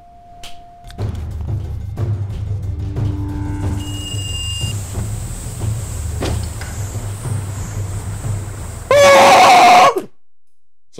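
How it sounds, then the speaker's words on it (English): A person lets out a loud, harsh Chewbacca-like scream in a hallway, a burst near the end over a steady low rumble and whine, then it cuts off. "Sorry, I didn't need to scream like Chewbacca right there."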